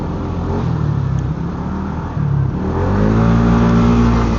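Heavy road traffic full of motorcycles rumbles and revs loudly nearby, engines droning continuously with rising, overlapping whines as vehicles pull away.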